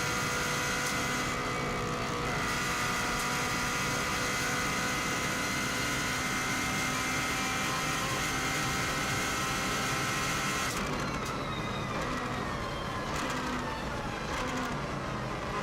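A Subaru WRX STI hillclimbing flat out at the Isle of Man TT, its engine roaring steadily under heavy load from an onboard view, a loud continuous drone that shifts in pitch partway through.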